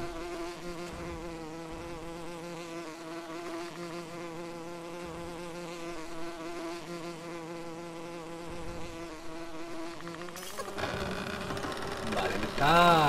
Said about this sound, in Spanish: Te va a salir una abeja azul.